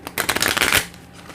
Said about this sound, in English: I've already shuffled these cards